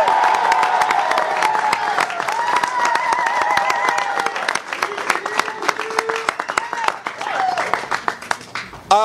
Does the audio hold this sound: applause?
yes